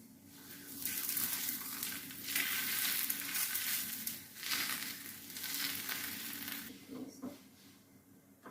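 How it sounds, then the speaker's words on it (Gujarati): Millet dhebra flatbread sizzles on a hot tava griddle, a steady close crackling hiss that swells and fades in waves with faint scraping, no talk over it. "હવે એને તવી પર શેકવા મૂકીશું."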